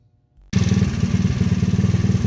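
A 90cc Chinese four-wheeler ATV engine starts after a brief near-silence and runs with a loud, steady, pulsing putter that stays close and continuous to the end.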